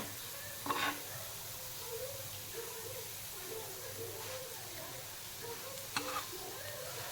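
Kothimbir vadi shallow frying in a pan over a low flame, a soft continuous sizzle with occasional clicks of a spatula pressing and turning the pieces, fairly faint, with a voice talking over it.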